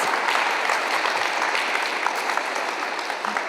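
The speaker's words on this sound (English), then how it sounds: "Give yourselves a round of applause." Steady audience applause at a poetry reading event at a fine arts museum, dense and sustained clapping from a crowd filling the room without pause.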